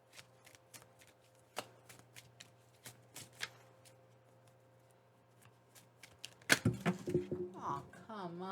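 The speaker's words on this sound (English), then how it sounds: "Why are the cards falling? Ugh. Sorry about that. My cards fell." Tarot cards spilling and slapping onto a table, a run of sharp light card clicks and flutters through most of the stretch, then a louder tumble near the end as a voice speaks over it.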